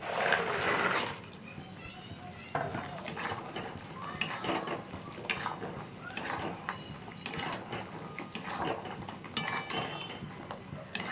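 A spoon stirs sugar syrup in a pan over a switched-off gas flame, making continuous scraping, clinking and grinding against the metal. The sound is close, with an irregular rhythm and a brief louder burst at the start.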